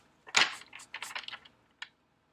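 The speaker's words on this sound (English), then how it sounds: "And while I shuffle," A deck of tarot cards is shuffled in a few quick, crisp riffling bursts, close and clear with short pauses between them, then a single final tap.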